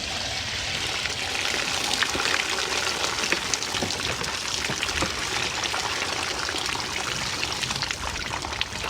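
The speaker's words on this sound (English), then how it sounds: "So all I have to do is strain this out." Soaked microgreen seeds drain through a regular kitchen strainer, giving a steady close pouring trickle of water that runs continuously without pause.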